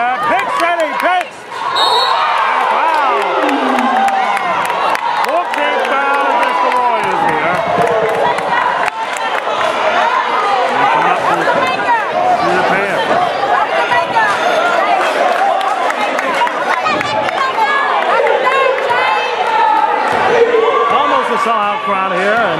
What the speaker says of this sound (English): Sellout crowd here